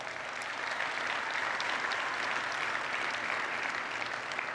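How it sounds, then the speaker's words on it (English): Sustained, even applause from a large conference audience at an AWS Summit keynote in Washington, DC, clapping for sponsors Intel and VMware, a dense wash of claps heard from a distance without talk. "Let's give them a round of applause."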